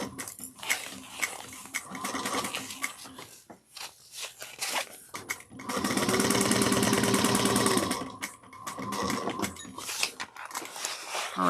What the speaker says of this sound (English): So I'm just going to baste this bottom little pocket together first on the bottom.